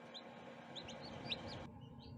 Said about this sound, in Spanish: Ahora mismo acaba de nacer este último pollito